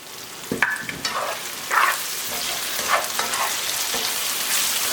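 Carrots and leeks frying in a pan for Cameroonian poulet DG, a steady soft sizzle with scraping stirs and clinks from a utensil at close range, with no talking.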